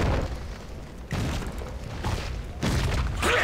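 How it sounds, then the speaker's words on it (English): A bomb explodes in a World of Warcraft dungeon, heard as loud, rumbling booms that swell and roll through the stretch, with no talking over them. "Explosion."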